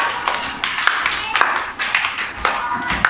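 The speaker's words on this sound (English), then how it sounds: "Clap for Hadia" A class of playgroup children claps together for a classmate, a steady patter of small hands with voices mixed in under the clapping.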